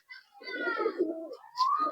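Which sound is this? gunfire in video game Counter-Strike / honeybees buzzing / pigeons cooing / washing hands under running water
pigeons cooing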